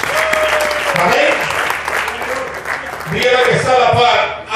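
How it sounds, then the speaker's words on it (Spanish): Congregation applauding loudly at a church service, a steady dense wash of clapping with a voice talking over it through most of the stretch. "démosle un aplauso a Dios para que podamos enviárselos a ellos"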